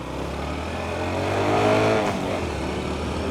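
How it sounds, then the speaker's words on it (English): A Honda Trail 125 motorcycle's torquey engine held in second gear and punched, revving up steadily with a droning, rising growl that swells in the middle and then holds, close and loud, with no talk. "Keep it in second, punch it. Torquey engine, good torque from down low."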